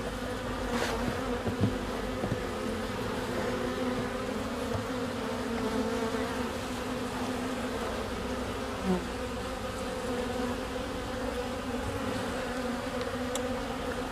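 A steady, continuous drone of honeybees buzzing close by, with a few individual bees passing louder near the start.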